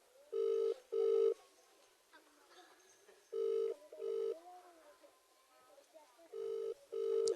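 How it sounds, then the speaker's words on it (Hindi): Telephone ringback tone during an outgoing call, heard as repeated pairs of loud, steady electronic rings separated by pauses, with people talking quietly in the background between rings. "देखो बेल जा रही है पीएसए महोदय की"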